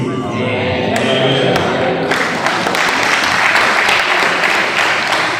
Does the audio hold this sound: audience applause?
yes